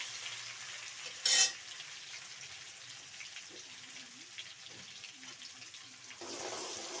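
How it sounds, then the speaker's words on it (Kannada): Onions fry in a pan for chicken sambar, a soft steady sizzle with occasional stirring scrapes, broken early by a short loud burst and followed near the end by a rise in hissing. "ಈರುಳ್ಳಿ ಸ್ವಲ್ಪ ಫ್ರೈ ಆಗಲಿ"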